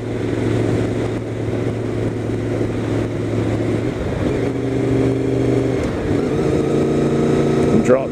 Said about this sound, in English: Drop two gears so the VFR ain't lugging